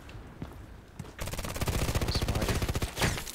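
Rapid automatic gunfire in the online shooter Contract Wars, a sustained burst of evenly spaced shots lasting about two seconds after a quieter stretch with a few scattered thumps, loud and close.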